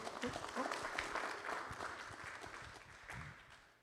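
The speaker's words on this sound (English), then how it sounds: "Have a round of applause" Applause from a conference audience at the London LED Summit 2021 after a presenter finishes, a moderate patter of clapping that gradually thins, with voices mixed in underneath.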